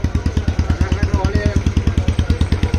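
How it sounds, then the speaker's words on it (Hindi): A 2022 BS6 Royal Enfield Bullet Standard 350 single-cylinder engine idles through twin exhausts with a steady, loud, evenly spaced thumping beat, close up. "दोनों का आवाज तो सेम ही लग रहा है क्योंकि दो एग्जॉस्ट है इसीलिए।"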